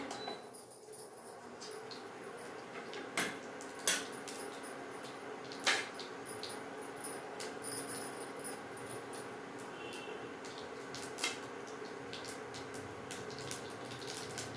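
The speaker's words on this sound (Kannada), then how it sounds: "ಈಗ ಸಾಸಿವೆ ಸಿಡಿತಾ ಇದೆ" Faint, scattered pops and crackles of mustard seeds in hot oil ring out irregularly over a soft, steady background hiss.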